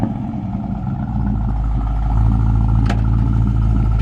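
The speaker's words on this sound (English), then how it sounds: "rev that engine a little bit. Golly, that thing sounds awesome." Engine of a 1953 GMC 100 five-window pickup truck revving steadily, a loud close low rumble that rises in level partway through and holds, with no talk over it.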